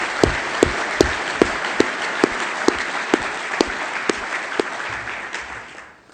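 An audience at a scientific conference plenary welcome session claps in sustained, dense applause with a few sharper claps standing out, fading out at the end.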